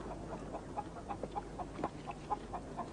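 Chickens cluck softly and repeatedly in a steady patter against a constant low background hum, with no one talking.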